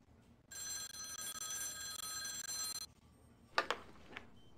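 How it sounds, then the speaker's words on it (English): A telephone rings in the X-Files video game with a steady electronic trill lasting about two seconds, followed by a few sharp clicks and knocks as it goes quiet. "That's your phone."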